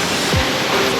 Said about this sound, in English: So if you want to go down to the lower section of the waterfall,